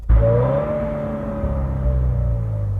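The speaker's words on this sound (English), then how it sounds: "I should also say the car does have pretty bad rev hang." A 2015 Subaru WRX engine revs up sharply, then its note hangs and drifts down slowly in a steady, close drone with no voices over it.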